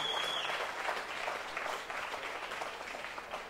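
Australian football crowd applauding a goal by Sydney against NT Thunder: broad, steady clapping and crowd noise from the stands that continues throughout and eases slightly toward the end.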